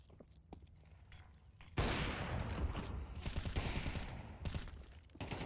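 Rapid bursts of gunfire from a Counter-Strike match, quiet at first with sparse clicks and footsteps, then dense loud volleys of shots with short gaps between bursts.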